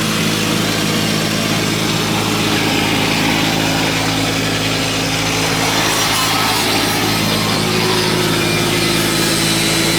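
A car's exhaust turnout being cut off in a garage, a continuous loud grinding, sawing rasp with steady low hum, close and unbroken throughout.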